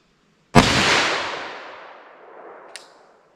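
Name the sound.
10mm pistol firing Inceptor ARX plastic bullet at 30 yards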